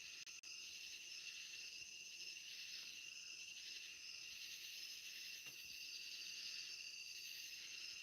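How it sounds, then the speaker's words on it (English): Insects buzzing outdoors near a porch, a steady high shrill chirring drone that holds for the whole stretch, faint and continuous with no talking. "Can you hear these bugs and bees?"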